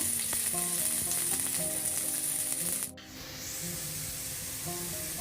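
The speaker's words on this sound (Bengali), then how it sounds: "পেঁয়াজটাকে একটু ভেজে নিব।" Chopped onions fry in two tablespoons of oil in a wok, giving a steady close sizzle that briefly drops midway, then continues with softer crackling and a faint background hum.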